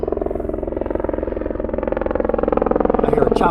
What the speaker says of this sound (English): I hear a chopper above me.